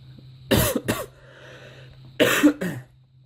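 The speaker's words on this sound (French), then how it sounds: "Voilà, ça me fait tousser." Two bouts of close, harsh coughing, each a quick double cough, separated by a quiet pause.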